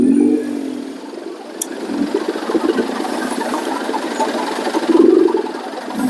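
A Yamaha XSR 155 motorcycle idles with its radiator fan running, giving a steady low ticking engine patter under a faint whir, with a short higher-pitched tone near the start and another near the end.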